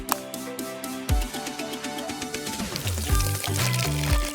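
Water pours into a cosmic astronaut toy with a gurgling, filling sound over a background of tonal music, the liquid noise rising slightly as the pour continues for a few seconds.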